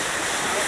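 Rushing white water from a waterfall on a white water rapids boat ride at Busch Gardens, a steady loud broadband roar filling the whole moment with no break.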